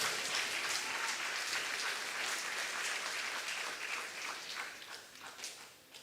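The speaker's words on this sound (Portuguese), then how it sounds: "Dê um aplauso, Jesus." Church congregation applause at a Sunday morning service, a quiet, distant wash of many hands clapping that holds steady and then gradually thins and fades toward the end.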